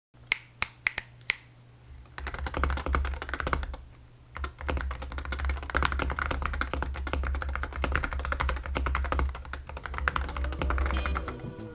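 Rapid clicky keystrokes from a mechanical keyboard, a steady close-up flurry of typing after a few sharp opening taps, with no voices.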